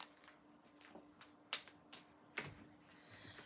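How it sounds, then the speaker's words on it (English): A large tarot deck shuffled by hand with long nails, producing a series of quick papery riffles and flicks with two sharper snaps, close but quiet. "these are big to shuffle with these nails on"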